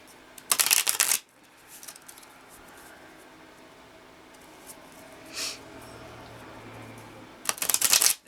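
Tarot cards being shuffled close by, two brisk riffling bursts at the start and end with quiet rustling and handling in between.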